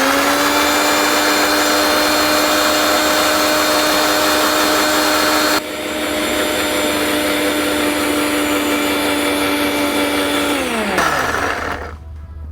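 Mixer grinder whirring loudly as it grinds tomatoes, a steady high-pitched motor whine that shifts pitch midway, then winds down and stops at the end; no talking.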